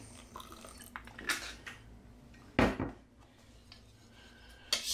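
A marinade is mixed with wine vinegar and ginger in a bowl for Danish-style gravlax, heard as scattered clinks and scrapes of a utensil against the bowl, with a few sharper knocks spread over several seconds.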